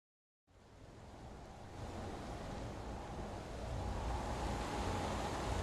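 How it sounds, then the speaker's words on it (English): Steady outdoor wind gusting broad and loud across the microphone, a continuous rushing roar that builds gradually with no voices present. "I like the wind."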